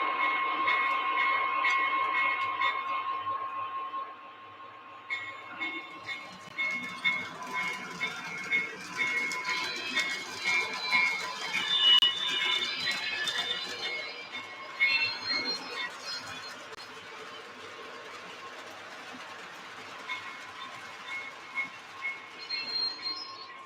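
Model E7 locomotives run on a layout track with a soft, steady rumble, metallic clicking and thin wheel squeal throughout, fairly quiet and with no talk.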